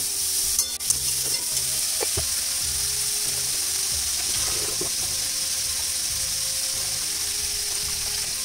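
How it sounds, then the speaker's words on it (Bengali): Potato and eggplant pieces, with washed gourd leaves, frying in a wok, giving a steady close sizzle with a few scraping stir clatters throughout. "এদিকে আমি কড়াইতে আলু বেগুন দিয়ে দিয়েছি"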